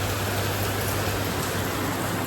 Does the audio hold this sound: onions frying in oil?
no